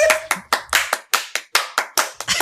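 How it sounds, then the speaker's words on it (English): A single pair of hands claps about nine times at a steady rhythm, each clap sharp, close and loud with no voices. "You hear two claps coming from the audience."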